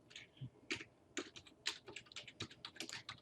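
Fingers type quickly on a computer keyboard, a dense, uneven run of crisp key clicks close by, quiet and with no voices.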